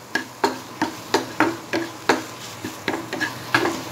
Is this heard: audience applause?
no